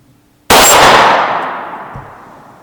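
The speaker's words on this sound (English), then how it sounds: "Let me try to keep shooting a little bit more, see if we can dial it in a little closer." An FN 509 9mm pistol fires a single sharp shot into a steel target at a range, followed by a bright metallic clang that rings and slowly fades.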